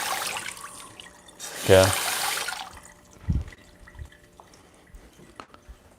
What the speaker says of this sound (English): I'm just gonna run in the cold water here, cool down the hot water pot on the bottom.